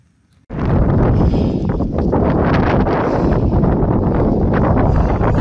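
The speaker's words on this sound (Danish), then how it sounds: "Høj for satan, det blæser!" Strong wind gusts buffet the microphone on Lysefjorden, a harsh, steady roar that starts abruptly and stays loud throughout.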